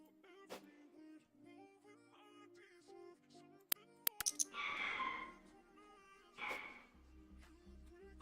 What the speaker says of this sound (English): My dog is going nuts downstairs, barking against somebody.